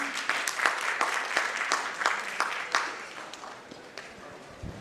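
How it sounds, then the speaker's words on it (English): An audience applauds at the 8th Future of L&D Summit and Awards 2022, with dense, even clapping that fills about five seconds and slowly thins out. "Can we welcome Aditya with a big round of applause, please?"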